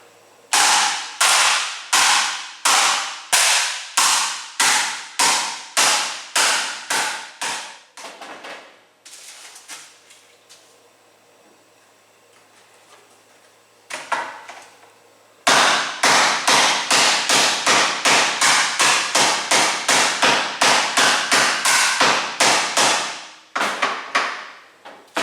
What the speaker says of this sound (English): take your cutting board, lay it down on top of your pepper. Start smacking the cutting board, then you get more of an even hit.